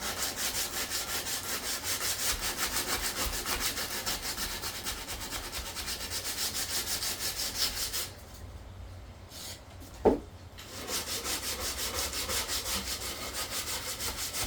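A piece of wood is sanded smooth by hand with steady back-and-forth rubbing strokes, close and fairly quiet, with a brief pause and a small knock partway through before the sanding resumes.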